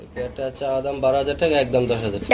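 Pigeons coo in soft, repeated throaty calls, close by, while a person talks over them.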